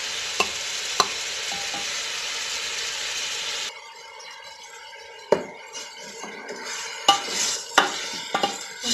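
Chopped onions frying in hot oil for a Mangalorean country chicken gravy, a steady loud sizzle at first, then quieter frying with sharp scraping and clinking knocks from a spoon stirring against the pan.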